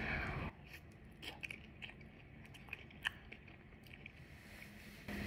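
Spoonfuls of chocolate oats heaped with blueberries being eaten, giving faint, close chewing and soft biting sounds in a quiet room, with small clicks scattered through the chewing.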